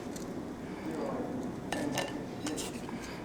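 A spoon scoops tuna salad onto a cracker, with faint scraping and clinks of cutlery against a dish, soft and close in a quiet kitchen while someone talks.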